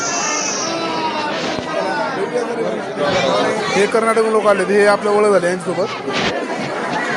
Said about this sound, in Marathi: गर्दी खतरनाक आहे आज, जरी मंगळवार नाही तरी पण